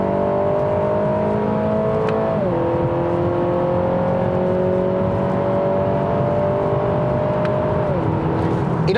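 A 2019 Acura ILX A-Spec with dual-clutch transmission revving under acceleration inside the cabin, a steady rising engine drone that drops in pitch twice as the gearbox shifts up.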